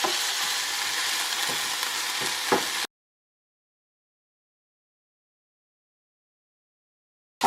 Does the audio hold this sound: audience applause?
no